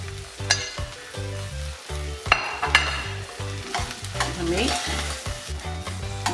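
Corned beef sizzling and frying in a pan while being stirred, with repeated scraping and clattering strokes over a steady crackle, close and fairly quiet, no voices.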